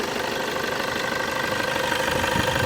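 A Toyota Sport Rider 2.5 D4D common-rail diesel engine idling in the engine bay, giving a steady, continuous rumble with a faint knocking texture, close up and with no one talking.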